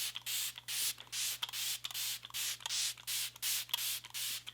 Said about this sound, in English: I'm just gonna spray this all over the skin first.